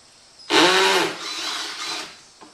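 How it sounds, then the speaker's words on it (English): A power drill boring holes into the rear door of a Toyota FJ Cruiser, a loud continuous whine lasting about a second and a half that eases off slightly before stopping, heard alone. "go ahead and get my drilling done here"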